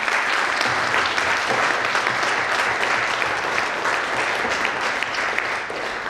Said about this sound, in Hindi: मैं चाहूंगा आप सबके सम्मान में एक बार जोरदार ताली।